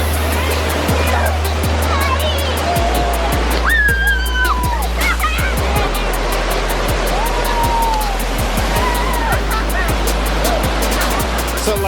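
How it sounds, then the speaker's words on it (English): A big waterfall heard from the top, a loud, constant roaring rush of water with faint chirping and clicking sounds scattered through it. "So this is the top of the waterfall."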